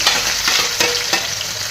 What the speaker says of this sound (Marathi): इथे कढईमध्ये तेल टाकूया. तेल टाकलेलं आहे. आता कांदा टाकला.